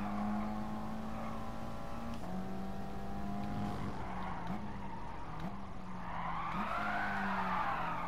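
Nissan 180SX drifting on a circuit in Gran Turismo Sport, engine note rising and dropping through gear changes, followed by a growing tire squeal as the car slides, loud and continuous.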